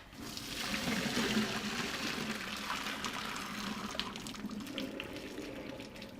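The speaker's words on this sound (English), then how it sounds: "So off the stove, over to the sink to drain carefully" Pasta cooking water poured off the noodles into a kitchen sink, a soft, continuous splashing gush that holds steady throughout at moderate distance.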